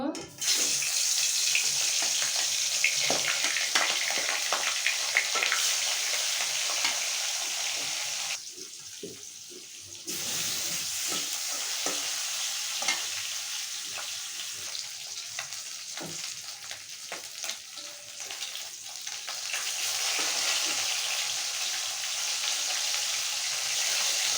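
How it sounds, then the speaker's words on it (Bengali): Fish frying in hot oil in a kadai wok, a steady dense sizzle that runs continuously near and loud, briefly quieting mid-way before resuming, with occasional stirring and water-like crackle and no speech. "এখন আমি মাছগুলো ভেজে নেব"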